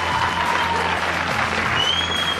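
An audience claps in steady, dense applause at a film premiere gala, sustained and even throughout, with a faint tonal hum and no voices rising above the clapping.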